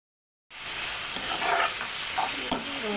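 Egg curry masala sautés in a pan under a lid: after a half-second of silence, a loud, continuous sizzle starts and carries on with faint scraping and crackling spots.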